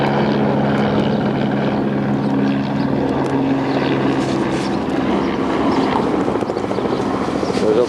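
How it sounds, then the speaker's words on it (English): Several helicopters hover over a South Philadelphia stadium before its implosion, a steady near rotor drone with low harmonic hum running throughout, with faint crowd murmur beneath. "All the helicopters in position."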